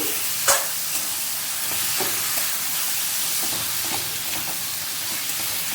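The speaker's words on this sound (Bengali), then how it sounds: "কড়া ধরে মাটনটা ভালোভাবে মশলার সাথে কষে নেব।" Mutton coated in masala fries in a kadai, with a steady hiss and sizzle broken by a sharp scrape at the start and a few softer stirring knocks, close and without voices.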